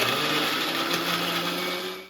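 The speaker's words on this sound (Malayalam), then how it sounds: "ഇനി മിക്സിയിലിട്ട് അടിക്കാം" A mixer grinder blending tomatoes into puree, a steady loud whirring motor hum that runs continuously and tapers off at the end.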